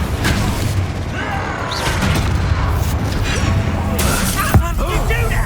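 The Confringo fire spell is cast in the video game Hogwarts Legacy, producing loud explosive booms and crackling shatters amid continuous dense combat noise, with voices heard in the mix.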